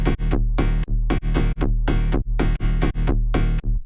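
A harsh, heavily distorted synth chord repeats in short stabs, about eight hits with brief gaps, buzzing and metallic with a resonant ring.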